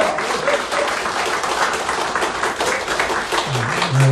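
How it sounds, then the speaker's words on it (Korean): An audience at a political campaign rally applauds warmly to welcome a speaker, dense steady clapping from many hands sustained throughout, with faint voices underneath. "뜨거운 박수로 환영해 주시기 바랍니다."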